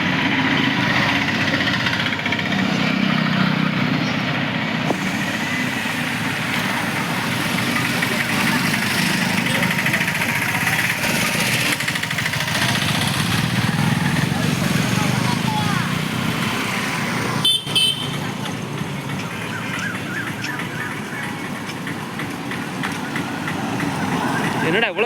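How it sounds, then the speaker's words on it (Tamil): A steady line of vehicles rolls through town in Srivilliputhur at 4 a.m., a continuous drone of engines and idling motors close by, with people talking over the traffic noise. "என்னடா இவ்வளோ வண்டி வருது பாருங்க"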